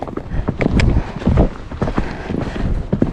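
Horse hooves thud and clop in a quick, uneven rhythm while a rider travels along a slippery countryside trail, close and fairly loud with no talking.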